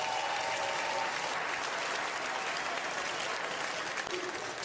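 Dense, sustained audience applause at a comedy roast, a loud continuous roar of clapping filling the room from start to finish without letup.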